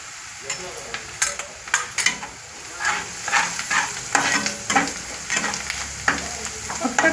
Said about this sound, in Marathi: आता आपण याच्यामध्ये हळद टाकूया।